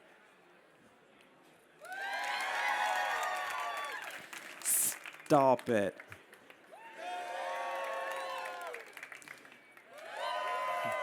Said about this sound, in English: on the count of 3, I want you to clap,